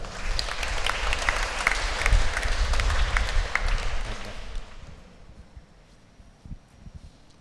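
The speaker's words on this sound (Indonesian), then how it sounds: "sekali lagi tepuk tangan untuk mereka" Wedding guests at a holy matrimony ceremony applaud the couple with a loud burst of clapping that carries for several seconds, then fades out quickly into quiet room sound with a few scattered claps.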